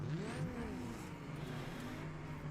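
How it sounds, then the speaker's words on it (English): Several cars driving around in BeamNG, with engines revving and whirring as their pitch rises and falls, a steady mechanical drone with no talk. "There's a lot of cars moving around sounds."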